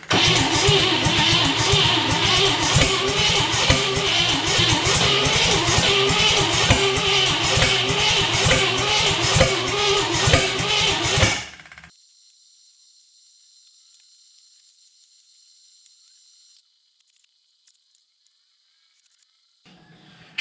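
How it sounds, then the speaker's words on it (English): A 1956 Cadillac Sedan DeVille barn find fitted with an Edelbrock 1406 600 CFM electric choke carburetor, its engine cranking and catching into a loud, rough running idle for about eleven seconds before cutting off abruptly, leaving near silence with faint shuffling. "first try with oil with the Edelbrock 1406 600 CFM electric choke carburetor"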